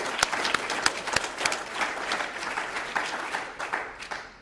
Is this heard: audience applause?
yes